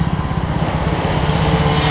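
A KTM Duke 200 NG motorcycle engine runs at highway speed near 120 km/h and high revs around 9000 rpm, giving a steady, buzzing drone with wind rush throughout and no talk.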